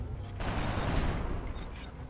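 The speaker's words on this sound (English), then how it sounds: "gonna take a close range shot" A close-range gunshot in the turn-based strategy game XCOM, a loud burst with a crackling, rattling tail lasting about two seconds.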